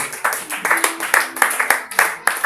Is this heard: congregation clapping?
yes